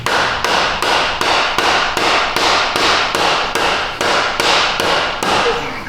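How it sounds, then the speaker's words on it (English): A plastic hammer taps on a Ford EcoSport front CV axle to seat the bearing, about fourteen sharp, evenly spaced knocks in a quick steady rhythm, close and loud with no talk. "I'm gonna tippy tap with my plastic hammer."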